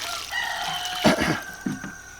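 A rooster crows over a quiet background, followed by a few short clucks from chickens nearby.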